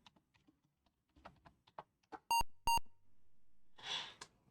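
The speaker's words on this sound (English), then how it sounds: "beep, beep" An old computer running a looping assembly program gives two clean electronic beeps in quick succession, preceded by soft keyboard typing and followed by a faint breath.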